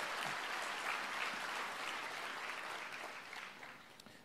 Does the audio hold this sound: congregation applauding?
yes